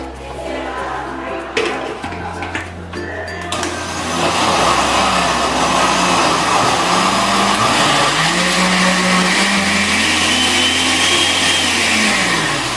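A blender whirs up ceviche ingredients after a few clicks and knocks, its motor settling into a loud, steady whine that shifts in pitch as the contents churn, close and continuous.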